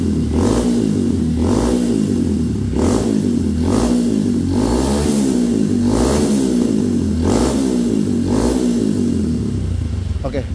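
A Honda CRF50 motorbike with a stock exhaust revving hard, repeated throttle blips rising and falling in a steady rhythm, loud and close throughout.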